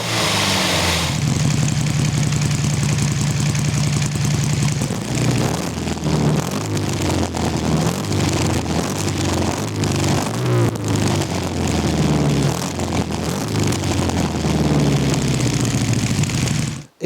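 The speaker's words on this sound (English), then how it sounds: "I can hear backfires in the exhaust, and I can hear spitting in the carburetor" A classic race car engine with an untuned carburetor runs rough and loud, steady engine drone with irregular spits and pops throughout, close up, no talking.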